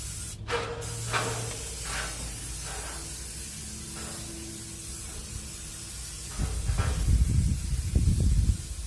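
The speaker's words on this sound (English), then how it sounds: "I'm also going to spray underneath here" Grill cleaner sprays onto a greasy grill in steady hissing short bursts, close by, followed by a louder rough rushing spray near the end.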